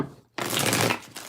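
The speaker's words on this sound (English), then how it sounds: "So let's get 5 shuffles for the first spread." A deck of tarot cards is riffled in one close, crisp shuffle after a brief pause, the rapid flutter of cards lasting under a second.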